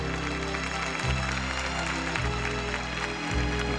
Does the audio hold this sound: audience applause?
yes